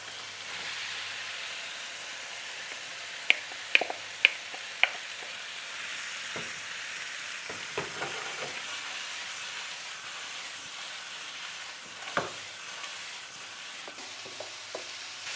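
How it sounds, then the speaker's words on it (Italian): Onion and zucchini fry in a pan with a soft, steady sizzle and hiss, broken by a few light clinks and scrapes from stirring early on and the occasional louder knock later. "Ci metto la cipolla, la lascio imbiondire leggermente, aggiungo le zucchine"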